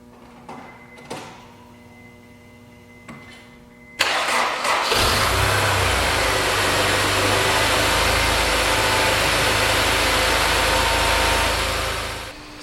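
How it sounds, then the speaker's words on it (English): A rebuilt Honda S2000 F20C engine, previously blown, makes its first start: a few faint clicks, then the starter cranks and the engine catches abruptly, settling into a loud, steady close-up idle for several seconds before cutting off. "So here's the first start on the Honda S2000 finally"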